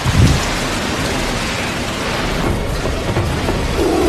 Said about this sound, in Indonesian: Namun badai masih mengamuk.